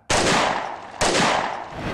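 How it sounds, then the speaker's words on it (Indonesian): Two loud gunshots ring out about a second apart, each sharp crack trailing off in a brief echo. "petugas kembali melepaskan tembakan"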